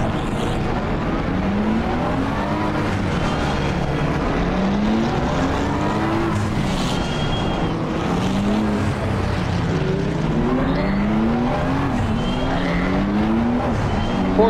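Porsche and BMW cars race past on the Nürburgring Nordschleife, one after another, their engines rising and falling in pitch as each sweeps by, and a loud engine roar stays constant throughout.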